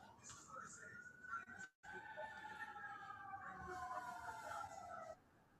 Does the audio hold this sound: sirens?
yes